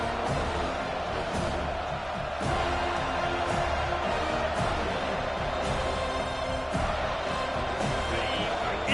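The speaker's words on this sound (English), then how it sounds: "this crowd is bringing down the house" Dense, steady crowd roar fills a college football stadium ahead of a third-down play at FSU, loud and continuous for the whole stretch, with faint voices and occasional sharper bursts rising from the mass.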